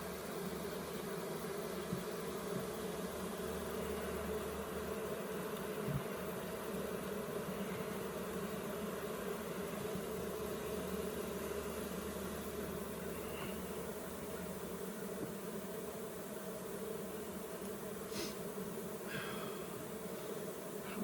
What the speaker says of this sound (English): These bees are looking really good.